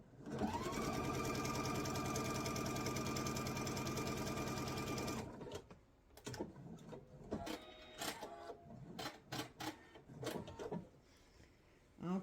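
Sewing machine stitching quilt pieces for a sampler block at a 1/4 inch seam, running steadily for about five seconds and then stopping, followed by clicks and handling sounds.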